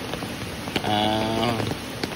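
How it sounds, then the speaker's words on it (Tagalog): A strong current of floodwater rushes steadily after hours of continuous overnight rain in Maayon, Capiz, with a constant broadband roar close by and a faint tonal hum partway through. "ganito na kalakas ang agos ng tubig dito sa amin"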